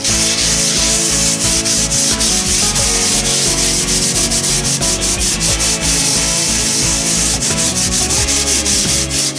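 Steady, loud abrasive rubbing of sanding on fiberglass laid over an electric cargo bike frame, a continuous gritty scrape with rhythmic strokes that runs throughout with machine-like tonal hum and no voices.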